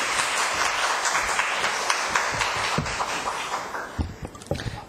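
A church congregation applauds in welcome of the pastor, a broad rush of clapping that holds steady and then thins out into a few scattered claps and shuffling near the end.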